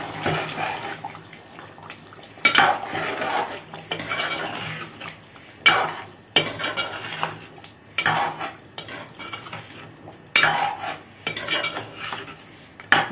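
Chicken curry (naatu kodi koora) stirred in a pot after garam masala goes in: repeated scraping, clinking strokes of a spoon against metal in bursts, with a soft sizzle underneath and no talking.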